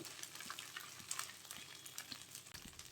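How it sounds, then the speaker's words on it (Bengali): Dried fish frying in a pan with onion and garlic paste sizzles and crackles steadily up close, a soft, continuous hiss with small pops and occasional stirring. "শুটকি আমি 2-3 মিনিট ভেজে নিয়েছি পেঁয়াজের সাথে।"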